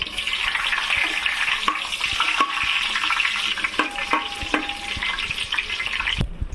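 Garlic and dried red chillies frying in hot oil give a steady, close crackling sizzle with scattered sharp pops and stirring clicks, with no one talking.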